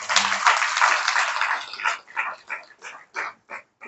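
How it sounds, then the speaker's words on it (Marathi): Devotees gathered at a religious scripture-reading session burst into a dense round of applause that thins after a couple of seconds into scattered, separate claps, fairly close and with no talking over it. "तुम्हा परिवाराला जोरदार एकदा टाळ्या वाजवून"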